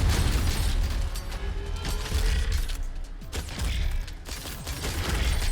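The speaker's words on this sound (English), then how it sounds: "he's got some magma shots" Boss in the Galactic Vault video game firing magma shots: dense, continuous rumbling bursts and crackling impacts that fill the clip at a steady loud level, with no talk over them.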